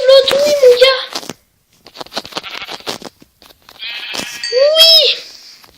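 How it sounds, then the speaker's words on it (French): Sheep bleating close by in a French farm setting, two long wavering bleats, one at the start and one near the end, with scattered rustling and patter in between. "il y a 2 moutons, là"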